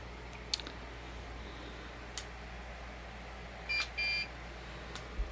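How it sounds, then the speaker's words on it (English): Short electronic beeps from a handheld scanner confirming a successful donor code scan, a brief double tone pair near the end plus a few faint clicks, quiet and close with no talk. "it beeps and vibrates and flashes the lights when it has a successful scan"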